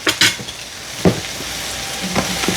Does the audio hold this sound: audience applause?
no